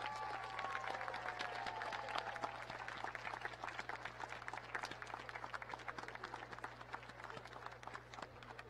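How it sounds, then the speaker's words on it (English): Graduation ceremony audience claps for family, friends and teachers at the Arrowhead Graduation 2018, a faint, distant wash of applause in a large hall over a steady low hum, fading gradually. "let's give an applause to all of those family, friends, and teachers that have supported you."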